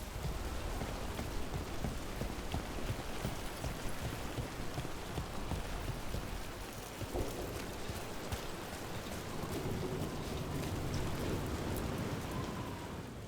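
Rain falls in the fantasy video game Dragon Age: The Veilguard, a steady, dense hiss of drops that holds evenly at moderate volume for the whole stretch, with no voices over it.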